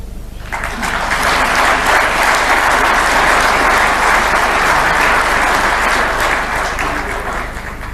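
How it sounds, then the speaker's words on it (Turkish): Sustained applause from an audience, steady and dense across the whole stretch, loud and near, rising quickly at the start and holding without a break. "Bu sefer doğal alkışlardı."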